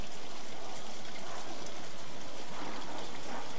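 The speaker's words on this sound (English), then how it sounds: "Beautiful rainy day." Steady rain pours down in the Train Simulator 2014 game on the London to Faversham route, a dense, even hiss of drops pattering on surfaces, continuous and fairly close throughout, with no talking.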